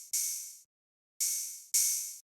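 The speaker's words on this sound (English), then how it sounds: "And then we have a switch up open hat, which is doing this thing." Three open hi-hat hits from an FL Studio switch-up pattern, each a bright, hissy burst that rings for about half a second before cutting off, the first alone and the last two close together, with silence between.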